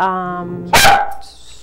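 A male dog gives one sharp, loud bark following a held harmonic tone, close and clear, then fading into quiet.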